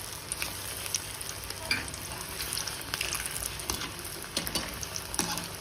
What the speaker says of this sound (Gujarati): તેલ પણ ગરમ થઈ જ ગયું છે। આપણે એડ કરી લઈશું અને ધીમા ગેસ ઉપર આપણે એને ગોલ્ડન બ્રાઉન થવા દઈશું